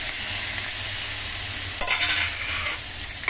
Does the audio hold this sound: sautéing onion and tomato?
yes